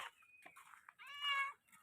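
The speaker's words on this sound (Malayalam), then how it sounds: "പൂച്ച" A cat meows twice, a short thin call followed by a longer, louder wavering meow, close by in an otherwise quiet room.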